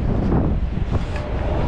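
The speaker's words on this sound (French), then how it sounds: "j'ai aussi le vent dans les cheveux qui est pas excellent" Wind buffets a camera microphone outdoors during street photography, producing loud, low, rumbling gusts that fluctuate irregularly with no speech.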